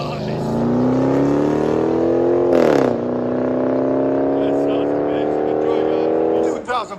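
A 2005 Chrysler 300C with a cammed 5.7-liter HEMI V8 and Carbon TR exhaust revs loudly up and holds a steady high drone, drops sharply near the middle and holds again, then bursts briefly at the end.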